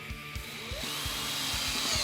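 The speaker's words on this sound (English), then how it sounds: "Use that clip as a template to drill my final hole." A power drill whirs steadily with a rising whine, its motor pulsing in a quick regular rhythm as it bores through material close by.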